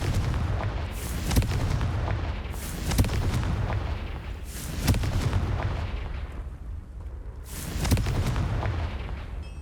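Confringo fire spell explosions in Hogwarts Legacy, a series of four or five heavy booming blasts spaced a couple of seconds apart, each with a sharp crack and rumbling tail over a constant low roar.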